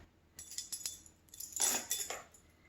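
A tablespoon scraping and clinking against a dish while scooping a sausage and rice mixture, a few light metallic taps and scrapes, close and quiet, with no talking.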